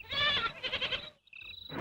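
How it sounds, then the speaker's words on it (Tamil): Goat bleating close by, one loud wavering call followed by a fainter, thinner second cry. "ஆடு கத்துது."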